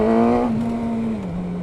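A motorcycle fitted with a stubby exhaust revs loudly and close by, the pitch falling steadily as the engine winds down, with no voices over it.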